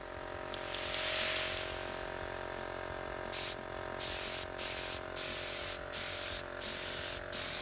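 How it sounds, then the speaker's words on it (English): A paint spray gun hisses steadily as a camper van's internal storage cupboard is coated white, first one long continuous spray, then a run of short, evenly spaced bursts with brief pauses between them. "I'm now proceeding to spray the back side of the internal storage cupboard, and you'll notice I'm doing it in white"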